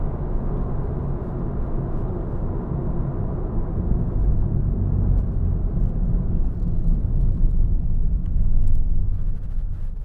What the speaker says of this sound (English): There is almost like a rumble strip coming down to this junction here where the tarmac's worn away